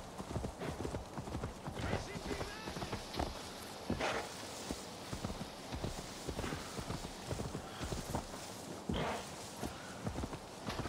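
Rapid, rhythmic hoofbeats of a galloping horse in the video game Assassin's Creed Valhalla, loud and close, thudding steadily, with a voice talking over them at times.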